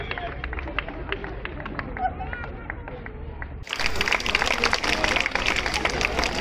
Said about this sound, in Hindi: हम लोग अपने को जोरदार तालियां बजाकर सभी अपनी अनुमोदना करें